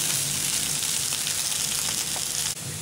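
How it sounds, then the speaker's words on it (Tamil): Gongura potato fry sautéing with masala in hot oil in a pan: a loud, continuous close sizzle with faint stirring underneath, steady throughout. "இதே கொஞ்ச நேரம் மசாலாவோட வதங்கட்டும்."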